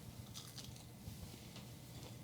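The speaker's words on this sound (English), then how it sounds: "Nice crunch on the outside." A crunchy gluten-free pizza bun made from flour and bread mix is bitten into, giving a short, faint crackling crunch up close with no talking.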